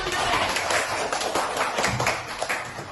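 Schoolchildren applaud together in a classroom, a quick patter of many small hands clapping at once. The clapping comes dense and close for a few seconds, then starts to thin out toward the end.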